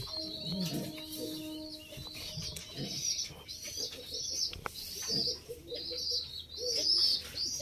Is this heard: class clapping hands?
no